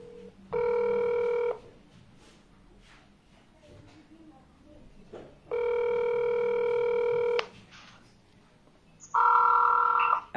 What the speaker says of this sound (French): S'il veut que j'appelle en vidéo, j'appelle en vidéo.